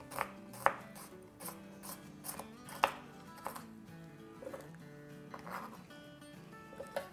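An electric chopper finely chopping onion and kebab ingredients gives off irregular whirring and knocking pulses with sharp clicks, fairly quiet and without voices.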